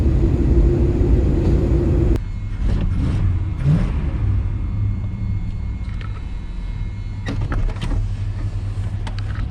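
A 1993 GMC 1500 pickup revived after ten years sitting accelerates hard, a loud close engine roar that drops abruptly after two seconds into a lower rumbling drone with clunks and rattles.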